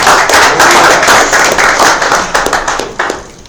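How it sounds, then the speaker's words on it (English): Audience applause greeting a speaker at an Elixir/Erlang meetup, dense clapping sustained throughout, loud and close, thinning slightly toward the end. "let's give a round of applause to Josh."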